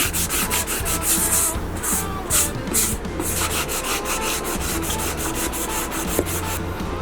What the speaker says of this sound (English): You want to go ahead and sand it down just a little bit